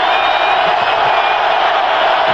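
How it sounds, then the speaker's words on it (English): A stadium crowd at a New York Giants at Tennessee Titans football game roars in a steady, dense wall of cheering and yelling, loud and continuous. "the crowd again, they must have a light saying applause and yell"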